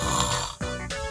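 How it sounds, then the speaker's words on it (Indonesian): Sleeping person snoring loudly and close, a rough rasping breath that breaks off briefly then resumes, with a clown costume performance setting around. "tidurnya ngorok lagi, pules banget"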